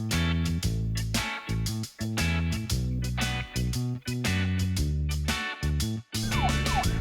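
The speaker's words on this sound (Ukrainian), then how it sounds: "А це поліцейська машина." Siren from a cartoon police car wails in rising and falling sweeps near the end, mixed in with a busy, stepping children's music track that plays throughout.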